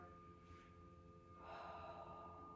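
Heavy, exaggerated breaths during Pilates exercise, a sharp inhale followed by a longer forceful exhale, close and fairly quiet.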